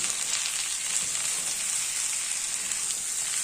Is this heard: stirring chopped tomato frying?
yes